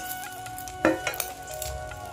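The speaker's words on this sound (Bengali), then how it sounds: "চিংড়ি মাছ ভাজার পর যে তেলটা আছে এর মধ্যেই আমি দিয়ে দিচ্ছি তেজপাতা" Bay leaf and whole spices hit leftover prawn-frying oil, a close, crackling sizzle with a sharp burst near the start, followed by stirring scrapes and a few utensil taps, with no talking.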